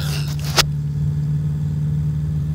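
A gyroplane engine in the X-Plane 10 flight simulator drones at a steady, even pitch after a brief click, holding a constant buzzing hum under throttle with no speech.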